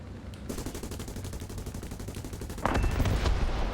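In War Thunder, the defensive gunners of a B-18A bomber fire machine guns at ground targets in rapid continuous bursts, with a louder, heavier stretch of fire near the end over steady aircraft engine drone.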